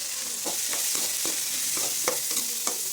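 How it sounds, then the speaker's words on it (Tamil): Ginger, garlic and dried red chillies sauté in hot oil for a brinjal curry, giving a steady close sizzle broken by regular scraping strokes of a spoon stirring through the pan. "நம்ம கட்டி வச்ச இஞ்சி பூண்டு போட்டுக்கலாம். இந்த வாசனை தாண்டி தான் நல்லா பொன்னிறமாக வத்தல் ஆட் பண்ணிக்கலாம். நல்லா வதங்கட்டும்"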